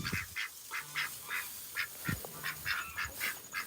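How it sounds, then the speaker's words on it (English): Ducks at an animal sanctuary chatter nearby in a steady run of soft, rhythmic quacks and honks, about a dozen short calls with a few low thumps between them. "I love listening to the duck chatter"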